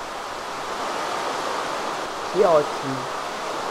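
Rain falls in the video game Minecraft as a steady, even hiss throughout, with a voice briefly speaking near the end.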